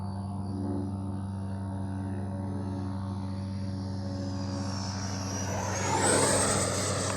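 A FlyFans L-39 RC jet in black diamond livery sweeps close past, its steady turbine whine and drone swelling with a rising high-pitched sweep as it nears, loud and alone.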